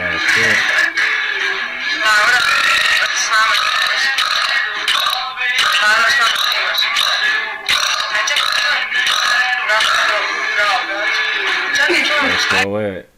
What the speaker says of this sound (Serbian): da likuša podrigne 11 puta zaredom